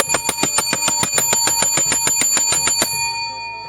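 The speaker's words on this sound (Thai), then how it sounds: "ด้วยกระดิ่ง กึกก้อง ให้ไอ้ไข่ตื่นขึ้นมา" A small bell rung rapidly in a steady run of about fifteen bright metallic strikes, close and clear, each ringing on with a shimmering tone that lingers after the last strike.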